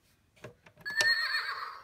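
A single toy horse neigh rings out, preceded by a couple of soft clicks; a short, bright electronic whinny heard up close.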